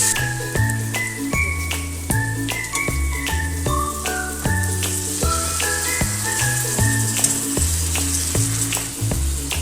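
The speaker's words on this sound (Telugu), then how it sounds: "బాగా కూరను కలుపుకోవాలి" Raw mango curry sizzles and fries in a pan as it is stirred, a steady crackling hiss that runs beneath prominent rhythmic background music throughout.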